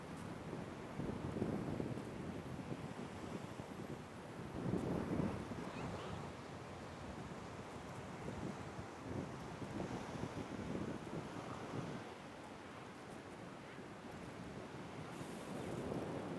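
Sea waves wash onto a beach under steady wind noise, a continuous broadband rush with gentle swells rising and falling, heard alone without voices.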